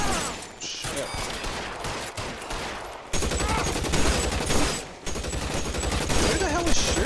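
Gunfire in the crime action video game L.A. Noire, a dense run of loud repeated shots and bursts that keeps going with brief gaps, with a voice talking over it at moments.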